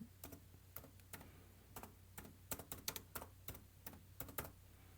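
Keys clicking on an HP laptop keyboard, a quiet, fairly close run of irregular taps in small bursts with short pauses, over a low steady hum.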